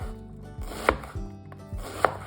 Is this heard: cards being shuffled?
no